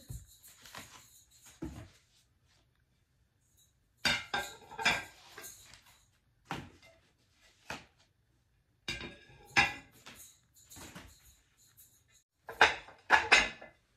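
White ceramic plates handled one against another, giving sharp clinks and clatters in short bursts separated by quiet pauses, close up and fairly faint.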